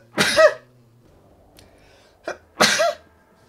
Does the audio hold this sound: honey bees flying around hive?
no